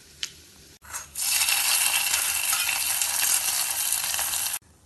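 Mustard seeds and coconut fry in oil for a moleesham tempering, a bright, steady sizzle with faint popping that starts after a couple of clicks and cuts off abruptly near the end.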